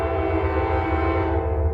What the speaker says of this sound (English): Let's wait until after the train.